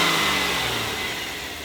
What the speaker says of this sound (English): The intake sucking the air in is louder.